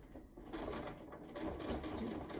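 A sewing machine stitches quilt-as-you-go rows for a barn quilt, a quiet, rapid mechanical whirr and patter running steadily in a short burst.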